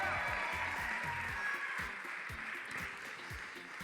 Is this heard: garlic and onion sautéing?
no